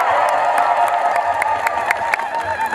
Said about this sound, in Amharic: እስኪ በእልልታ ግለጡት።